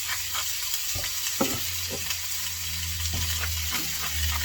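Thinly sliced pork chops seasoned with salt and pepper sizzle in a hot pan, a continuous close crackle broken by a few clatters and scrapes as they are moved, with no talking.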